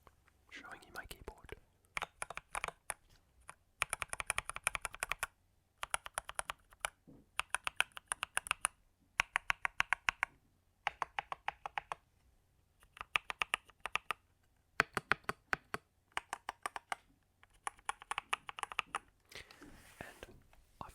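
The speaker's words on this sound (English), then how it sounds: "I find it's most satisfying just when I'm typing away, like doing emails, which you'll hear soon." Bursts of rapid clicky keystrokes from a thocky mechanical computer keyboard, typed in quick runs with short pauses between, close and fairly quiet, with faint whispering now and then.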